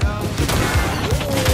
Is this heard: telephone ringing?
no